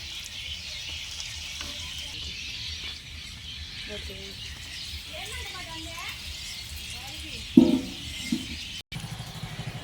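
Battered long chillies for bajji fry in oil with a low, steady bubbling hiss, and a voice speaks faintly underneath. A louder clatter comes near the end, followed by a brief cut.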